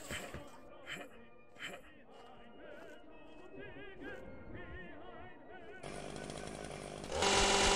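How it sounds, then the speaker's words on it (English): Chainsaw in the video game Dismantled: a loud, continuous rasping, revving motor drone with grinding, wavering pitch, building to a harsher, denser roar near the end, with no talking. "Crotch chainsaw!"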